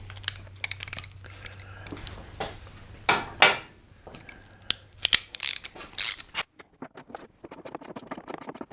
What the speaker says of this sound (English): There's 1 bolt right there attached to the fender. I'm going to go ahead and get that removed.